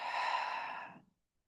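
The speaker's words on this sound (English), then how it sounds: "Breathing in." A single soft, breathy exhale during a tai chi shibashi qigong session, smooth and audible for about a second before it trails off into silence.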